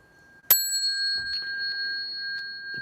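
A Buddhist temple bell is struck once, a bright sharp strike followed by a long clear ringing tone that hangs and slowly fades, close and alone.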